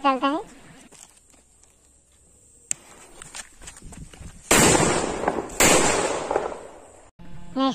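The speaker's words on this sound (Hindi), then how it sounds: "हमारा ग्रीन सुतली बम। तो चलिए दोनों को एक साथ चलाते हैं" Green sutli bomb firecrackers set off for Diwali, a sharp crack followed by two loud, close blasts with crackling debris, with voices briefly heard at the start and end.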